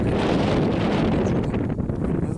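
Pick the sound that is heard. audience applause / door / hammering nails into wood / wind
wind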